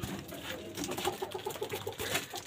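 Low-flier pigeons coo nearby in soft, throaty, repeated calls, a low rolling rhythm over a faint background hum.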